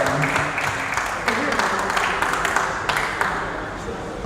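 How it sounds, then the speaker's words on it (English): Applause for the fighters at a live press conference, a crowd clapping steadily at moderate distance for several seconds while voices talk over it. "Let's give these guys a round of applause"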